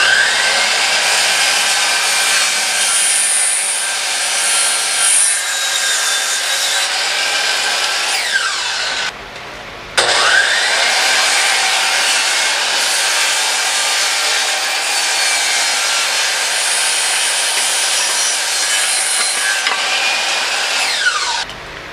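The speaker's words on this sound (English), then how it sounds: "start cutting the inside supports" A saw cutting wooden shelf supports to length, a loud, close, continuous whining cut that runs for about nine seconds, breaks off briefly, then resumes for another long steady pass.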